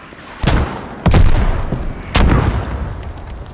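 Tank shells exploding during a Squad video game battle, three heavy booms spaced about a second apart, each followed by a rumbling decay over a low battlefield ambience.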